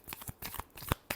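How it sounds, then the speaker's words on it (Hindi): A deck of tarot cards is shuffled up close in quick papery riffles and slaps, a rapid run of bursts over about a second, with no voices. "Last shuffle."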